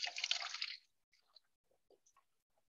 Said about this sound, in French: Je vais remplir à droite ma bouteille avec l'eau rouge